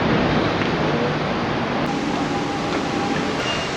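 Metro station in Buenos Aires with a train rumbling through, a steady loud roar of wheels and rushing air filling the whole stretch, with a faint high squeal.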